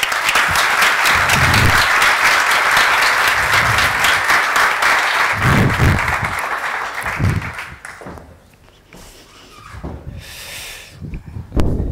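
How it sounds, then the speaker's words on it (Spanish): A strong, loud wave of audience applause at a startup talk event in Asturias fills the room, then thins out and fades to scattered claps before a voice begins speaking. "por favor recibamos con un fuerte aplauso a Luis Iván Cuende."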